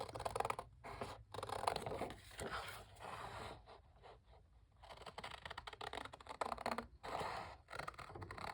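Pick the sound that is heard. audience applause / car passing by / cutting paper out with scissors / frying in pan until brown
cutting paper out with scissors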